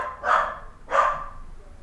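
A dog gives two short, sharp barks about half a second apart, fairly close and loud, with quiet in between.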